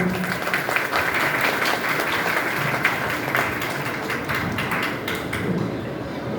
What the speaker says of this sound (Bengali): আরো বেশি খুশির জন্য আরেকবার জোরে হাততালি দিতে হবে